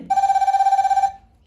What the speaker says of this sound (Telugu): ఇది మామూలు రింగ్ టోన్